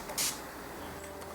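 Face setting spray mists from a bottle in two short, sharp hisses, one early and one at the very end, over a steady background.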